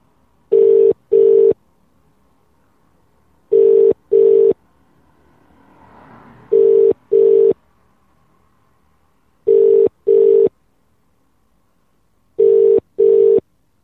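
A telephone line signals in pairs of steady tone bursts, repeating five times at even intervals while calling an office, loud and clear against a quiet background with a faint murmur in the middle.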